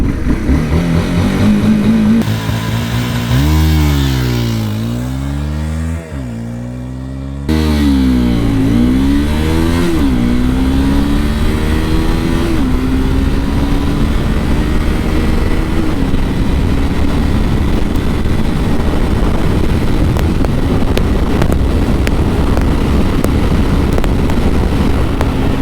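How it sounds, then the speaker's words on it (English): A 2011 Honda CBR250R with ABS, a 250cc single-cylinder motorcycle, starts up and launches hard in first gear, the engine revving repeatedly in rising sweeps before pulling away through the gears, loud and close throughout. "let's do a quick acceleration test on the CBR250R and let's start it up. So first gear, let's launch it."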